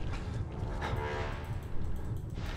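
A train in the horror video game Outlast rumbles heavily and continuously, with a tonal horn-like hum riding over the deep rolling noise.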